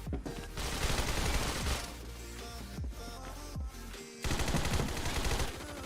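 A Tommy gun in Phantom Forces fires long rapid automatic bursts, loud and close, broken by a brief pause before another sustained burst.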